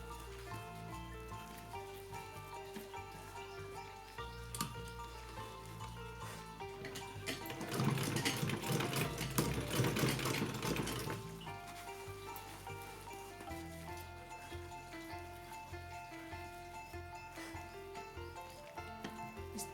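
A sewing machine stitches a small summer dress for a Laddu Gopal idol. A dense, rapid run of needle clatter swells for a few seconds mid-clip over steady background music.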